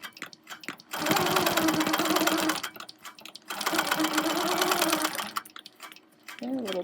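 A sewing machine stitches around a hexagon on a wholecloth quilt, running in two long, fast, buzzing bursts with a brief pause at a corner between them and quiet moments before and after.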